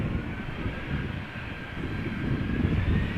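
An EasyJet Airbus A319 jet sits lined up on the runway threshold at Amsterdam Schiphol, its engines giving a steady, loud broadband roar with a faint high whine running throughout, no voices.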